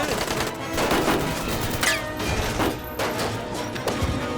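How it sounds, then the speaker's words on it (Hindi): Repeated sharp gunshots crack over a dense, noisy background, several bursts spread across the clip with a loud mechanical rumble underneath. "ओए गोली चला रहे हैं ये लोग तो।"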